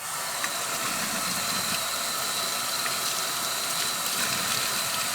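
Hot water from a tap runs in a steady, continuous hiss while pieces of an exotic hardwood shaving set are washed, with faint clinks and scrapes beneath the close, even flow and no talking.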